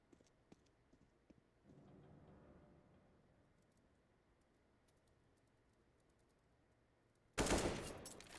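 Gunfire in a competitive esports first-person shooter match, with faint distant clicks and pops early on, then a sudden loud burst of shots near the end.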